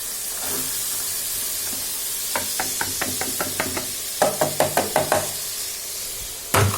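Carrots being stirred in a hot wok for a savoury pastry filling, with a faint sizzle under a series of quick metallic spatula knocks and scrapes in two bursts, then one final clack.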